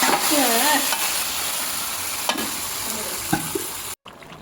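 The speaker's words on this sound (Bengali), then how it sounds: "জিরে দিয়ে দিলাম আর একটু ভেজে নিয়ে ঢেলে দেবো" Cumin seeds fry in hot oil for a tempering to pour over nihari, giving a continuous close sizzle with stirring scrapes before cutting off abruptly near the end.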